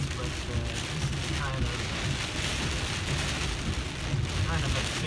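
Torrential rain hammers a Tesla Model X while it drives slowly through a downpour, a loud, dense, steady roar of drops on the roof and glass that fills the whole stretch with no pauses.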